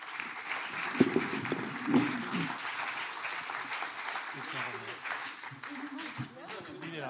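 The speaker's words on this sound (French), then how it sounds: "Allez, on peut les applaudir" Gala audience applauding a trophy presentation: sustained clapping from a crowd, with a voice speaking over it through most of the stretch.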